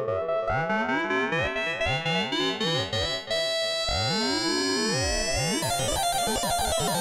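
A Moog Little Phatty analog synthesizer has its filter swept by an oscillator through the mod wheel, giving a sustained tone with warbling, siren-like sweeps that grow denser and harsher as it goes on, loud and continuous with no voice.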